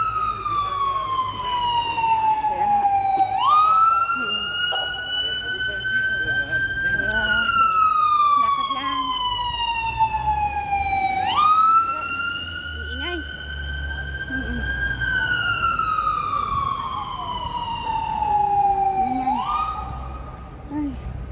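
Emergency medical vehicle siren on a quiet night street in Israel. A loud, close wail slowly falls and then jumps back up, repeating roughly every eight seconds over a low traffic rumble, with faint voices underneath.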